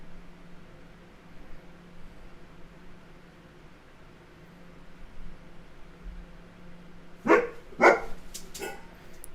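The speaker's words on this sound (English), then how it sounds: "Dogs are barking." Dogs bark in a short burst of three or four sharp barks at moderate distance, after a long stretch of low background hum.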